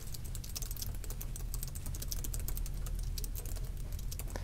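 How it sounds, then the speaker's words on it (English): Rapid, continuous keystrokes clatter on a Logitech ultra-thin keyboard, with dense, irregular taps close by and a faint low background hum underneath. "So we'll just start typing a line here."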